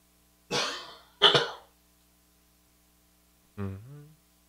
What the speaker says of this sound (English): I got a cough, and I'm going to pause so I don't do this in your ear